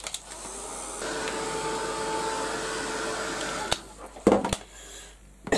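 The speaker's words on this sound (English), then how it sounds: "I'm going to give this a quick blast with the heat gun" A heat gun blows over embossing on a mixed media vintage frame, giving a steady loud whirring hiss for several seconds that cuts off, followed by brief handling clatter.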